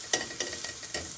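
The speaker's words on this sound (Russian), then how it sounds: "быстро все перемешиваем." A spatula stirs cabbage frying in a hot pan with garlic and ginger, giving a steady loud sizzle broken by several quick scraping strokes, with no voice present.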